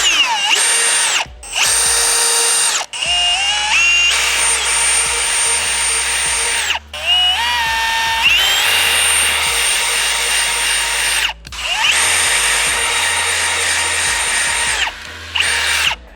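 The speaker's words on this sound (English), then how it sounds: "So once you get your holes drilled," A power drill bores holes through a Z1 front bumper tab, whining loudly in several long runs separated by short pauses, with the pitch shifting as the bit bites in.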